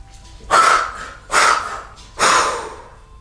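Someone takes deep breaths during a yoga session: three loud, close rushes of air, each lasting under a second and separated by short pauses, with no talk.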